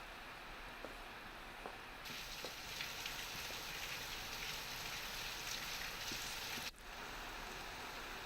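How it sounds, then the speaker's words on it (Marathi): Heavy monsoon rain falls in Ratnagiri as a steady, dense hiss that thickens and grows louder after the first couple of seconds, with a few sharp drop taps and no voices. "तर रत्नागिरीमध्ये आपण बघतोय दमदार पाऊस झालेला आहे"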